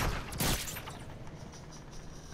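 Rapid video-game gunfire in a Fortnite Chapter 3 Season 3 match, a dense burst of shots near the start that thins into steady, softer shooting for the rest of the moment.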